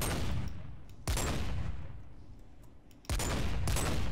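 Sniper rifle from Flans Mod in Minecraft fires in quick succession, sharp loud bursts with long decaying tails, about three clear shots a second or two apart.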